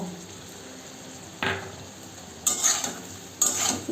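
A pan of Bengali-style egg kosha gets stirred, with three short scraping bursts of the spatula against the pan over a low background hum. No one speaks.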